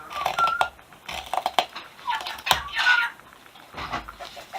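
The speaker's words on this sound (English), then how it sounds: "Are you a nutty bird, Sam?" A pet bird squawks and chatters in short irregular bursts, close and fairly loud, with brief gaps between calls and no talking.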